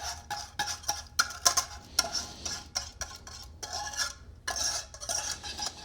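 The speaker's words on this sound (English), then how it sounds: "And let's fold it all together." A spatula stirring and folding gluten-free brownie batter in a bowl, rhythmic scraping and clinking against the bowl in close, steady bursts with brief pauses, no voices.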